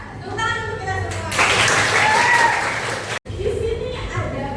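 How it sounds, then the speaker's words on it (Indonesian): Classroom applause as students clap together for everyone during a lively Islamic studies lesson, a dense wash of hand claps swelling for a couple of seconds, then breaking off briefly before resuming more softly, with a teacher's voice over it. "Tepuk tangan untuk kita semua."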